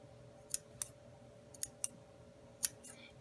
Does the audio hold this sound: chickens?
no